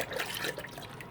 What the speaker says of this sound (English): That's actually some tumbling water.